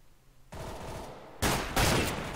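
Two MAC-7 submachine guns fire in Counter-Strike on de_mirage, starting about half a second in. The rapid automatic bursts are close and loud, then grow into heavier, denser gunfire with no talk over it.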